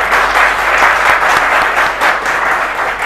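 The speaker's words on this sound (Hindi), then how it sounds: "तालियां बजाइए" Sustained applause from an audience at a Hindi poetry recitation, dense continuous clapping at steady loudness throughout, no voices over it.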